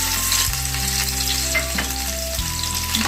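Cumin and chillies sizzle in hot oil with fried peanuts in a pan, a steady close crackling fry that carries on alone without a break.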